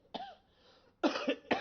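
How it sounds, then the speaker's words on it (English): An adult with a cold coughs: one short throaty cough, then a pause and two or three harsher coughs in quick succession, close to the microphone. "It's just a cough."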